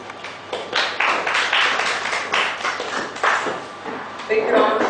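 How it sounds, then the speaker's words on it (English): Audience applause at a conference presentation on auditing compliance and analytics, a sustained crowd of hands clapping at steady loudness with some voices mixed in, swelling briefly near the end. "Big round of applause once again"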